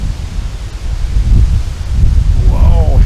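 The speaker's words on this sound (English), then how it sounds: "Here comes a big gust of wind right now." A strong wind gust blows directly onto an unprotected microphone outdoors, giving loud, low rumbling buffeting that swells toward the end, with faint rustling behind it.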